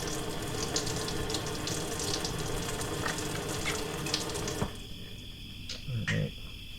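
Water runs steadily from a campground tap, a close, constant hiss that cuts off partway through, leaving quiet outdoor ambience and a few faint knocks.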